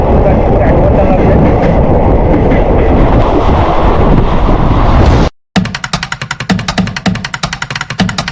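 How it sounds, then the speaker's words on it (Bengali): Passenger train pulling out of Durgapur, a loud, dense rumble of wheels on rails heard from on board, breaking off briefly and then giving way to a steady rhythmic clickety-clack. "তোমার ট্রেন ছেড়ে দিল দুর্গাপুর থেকে"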